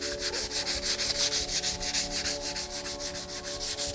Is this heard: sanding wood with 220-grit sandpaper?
yes